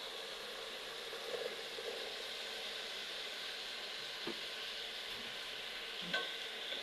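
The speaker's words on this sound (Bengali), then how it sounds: "এবার আমি এগুলো এখানে ঢেলে দেব" Faint steady sizzle as potato, beans and eggplant cook in fried lentils in a pan, with a few soft clinks of stirring.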